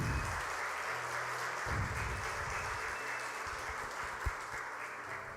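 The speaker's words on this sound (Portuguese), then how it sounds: "Você podia ter dado um aplauso ao Jesus por isso." Church congregation applauding during a sermon, steady clapping heard at a distance and fairly faint, with low murmurs underneath.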